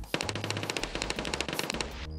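Rapid automatic gunfire from the Gluhar rifle in the Escape from Tarkov video game sounds as a loud, close burst of about twenty evenly spaced shots.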